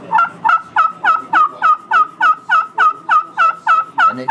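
A turkey call mimics a hen's assembly yelp: a long, steady series of about fifteen evenly spaced, loud, close yelps in an unbroken rhythm, with no talking.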